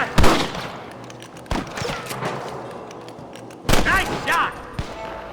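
Gunshots ring out in the Red Dead Redemption western game: three sharp, loud reports spaced about two seconds apart, with soft talk and ambient noise in between.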